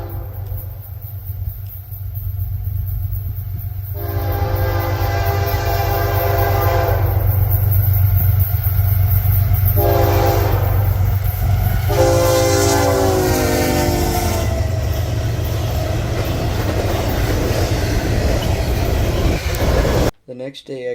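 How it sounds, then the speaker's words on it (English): A CSX freight train, IO-17, rolls past with Monon Heritage locomotive 1897 leading, its loud rumble steady throughout while the horn sounds in several strong blasts mid-passage. "I caught CSX IO-17 heading west with 1897, the Monon Heritage leading"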